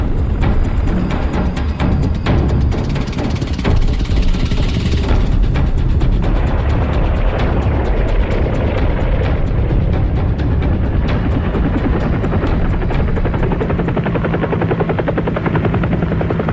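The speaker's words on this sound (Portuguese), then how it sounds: "a investida continua com a decolagem de 120 helicópteros americanos" A massed fleet of American military helicopters lifts off during the Vietnam War, their rotors and turbines forming a loud, continuous, dense roar that holds steady throughout, with no voices.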